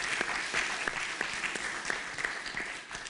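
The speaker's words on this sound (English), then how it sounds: "So can we please give her a round of applause?" An audience at an art-and-justice conference applauds steadily, a dense, even wash of many hands clapping at close range for the whole stretch, with no voices standing out.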